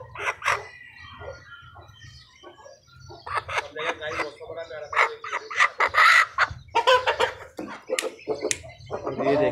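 Aseel chickens cluck and a rooster calls amid a farmyard, with people talking nearby over a low steady hum.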